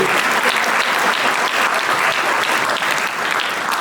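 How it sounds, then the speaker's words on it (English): Loud, dense audience applause at a retirement recognition event, steady close clapping from a crowd that holds throughout and eases off slightly near the end. "Yes, give him applause."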